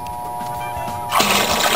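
Cold water poured from a bucket into a commercial fryer pot, a sudden loud rushing splash that begins partway through after a quieter background hum, close by with no talking.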